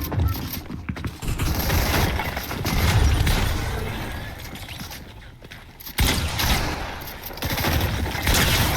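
Shotgun blasts in an online shooter game fire in sharp bursts, several heavy booming shots clustered near the start and again after a short lull, with mechanical clatter between them.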